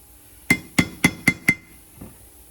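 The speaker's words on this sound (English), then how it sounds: "that specific little noise that we hear when we hammer it" Five sharp metallic hammer strikes in quick, even succession, each with a bright ringing clink, followed by a softer tap, as a wheel bearing is hammered into place on a 1994-97 Ford Aspire.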